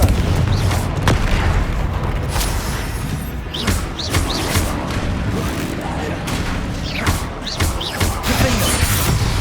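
Repeated Confringo fire-spell blasts in Hogwarts Legacy on PS5 Pro: heavy booms and crashes follow one another over a constant loud rumble of combat noise.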